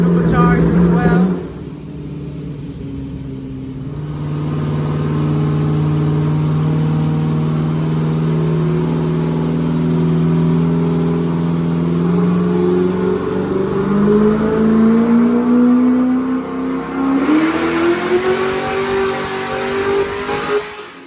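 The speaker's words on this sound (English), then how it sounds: "he has a C5 on the dyno right now. Supercharged as well" A supercharged C5 Corvette V8 roars on a dyno, holding a loud, steady drone before climbing into a long rising rev near the end, very close and dominant.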